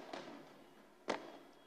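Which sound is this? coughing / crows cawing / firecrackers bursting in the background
firecrackers bursting in the background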